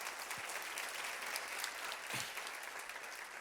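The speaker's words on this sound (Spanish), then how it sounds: "Dale un aplauso a ese Dios todopoderoso." Steady congregational applause fills a church service, a dense, even wash of many hands clapping that holds throughout at moderate loudness without letting up.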